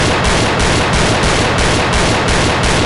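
Loud unsuppressed gunfire from a video game rifle rattles off in a rapid, steady burst of evenly spaced shots, close and dominant throughout with no talking.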